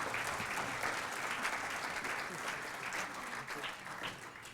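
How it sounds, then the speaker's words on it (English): Audience at a fall graduate recognition ceremony applauding School of Natural Resources graduates, an even, continuous wash of clapping heard from a distance at moderate volume. "Let's give a round of applause to all of our School of Natural Resources graduates."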